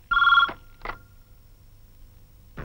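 A telephone rings in a quiet room: one strong electronic trill, then a weaker echo and the start of another ring after a pause.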